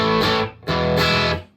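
Electric guitar played through a Nobles overdrive pedal, two strummed chords with a gritty, crunchy edge, each ringing briefly then cut off, moderately loud with no talking.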